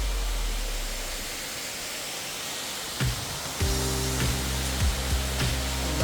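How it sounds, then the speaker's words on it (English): Crabtree Falls in North Carolina gives a broad, steady roar of falling water that fills the whole clip, with a few sharp knocks and a brief tonal hum partway through. "Lovely full-scale fall, and this is one of the good waterfalls, famous waterfalls in North Carolina"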